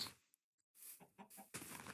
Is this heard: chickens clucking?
yes